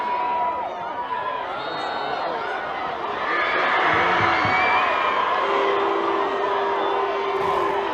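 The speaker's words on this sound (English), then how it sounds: "The crowd don't like it." Spectators at a ladies' Gaelic football Ulster schools senior final between OLSPCK and St Mary's Magherafelt react to a decision, a broad crowd murmur swelling into shouts, whoops and jeers midway, with a commentator talking underneath.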